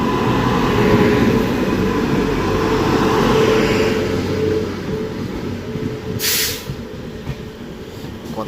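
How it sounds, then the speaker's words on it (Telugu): The Madras–Mumbai LTT Express with LHB coaches runs past close by, a loud sustained rumble of wheels on track that eases slightly, with a short high squeal near the end. "ఇది మద్రాస్ ముంబై LTT ఎక్స్ప్రెస్"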